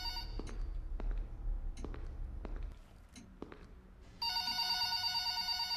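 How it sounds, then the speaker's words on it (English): A telephone rings in a FNAF-style Roblox horror game. After footsteps and knocking thuds over a low rumble, a loud, steady electronic ring starts suddenly and keeps going. "Bro, is somebody about to answer the phone?"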